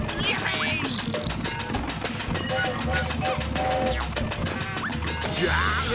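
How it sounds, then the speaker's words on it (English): Runaway train in the Floigan Bros. video game, rapid rhythmic clattering and rumbling mixed with game music and quacking cartoon voice effects, loud and continuous throughout. "Oh no! We lost control of the train?"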